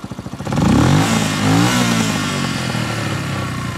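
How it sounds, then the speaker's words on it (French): A Yamaha XT125X motorcycle engine revs hard under a blip of throttle after a few idle putters, holding a loud, rough, rising roar close by before settling to a steady high idle. "Alors je vous mets un coup de gaz."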